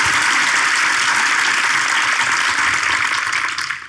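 A studio audience on a Turkish television show breaks into loud, dense applause that holds steady throughout, then begins to fade just at the end.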